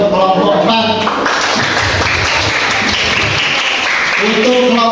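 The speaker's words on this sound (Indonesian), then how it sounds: "Kasih aplaus untuk kelompok 4" A classroom audience of students claps for group 4 after its dragon fruit product presentation, a dense steady wash of applause throughout, mixed with some voices.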